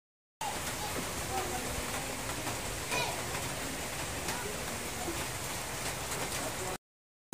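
Steady rain falls in a continuous hiss, with occasional louder drops, fairly faint and uninterrupted throughout.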